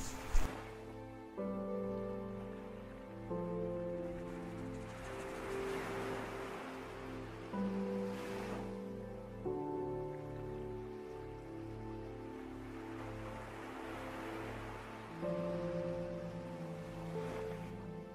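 Ocean waves at Port Noarlunga Beach in Adelaide surge and wash in repeated swells, each with a hissing rush, under a steady music bed.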